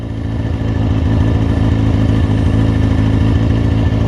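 A motorcycle engine runs steadily up close, a constant loud drone with no pauses throughout, nothing else standing out over it.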